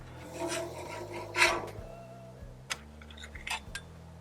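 A metal spatula rasps and scrapes an egg across a flat top griddle, with several short close scrapes and a few light clinks in quiet surroundings.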